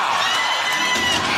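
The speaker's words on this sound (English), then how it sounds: "Let's give her a round of applause and make sure she feels" A studio audience on a TV chat show erupts in loud cheering, whoops and applause as a guest comes out, a dense, continuous roar of voices filling the room.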